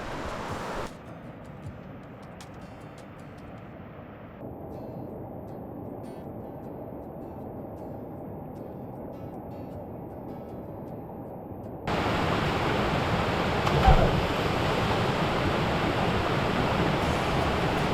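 A waterfall at a hidden pool in Costa Rica gives a steady broadband rush that swells in stages and becomes loudest and nearest in the final seconds, with no voices.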